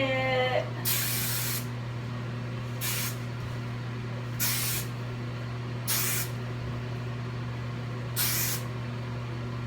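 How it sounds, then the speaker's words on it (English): Five short bursts of hairspray hiss at roughly even intervals, each loud and close, sprayed onto a curly updo over a steady low background hum. "And then you just pull them and spray it."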